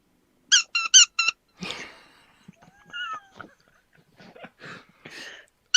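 Rubber squeaky toy giving a quick burst of four bright squeaks, followed by scattered softer squeaks and rustling, fairly close and with no voices over it.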